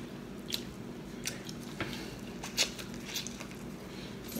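Close wet smacking and squishing from eating a seafood boil with dripping sauce, a few sharper mouth clicks and smacks scattered over a steady low background hum, no talking.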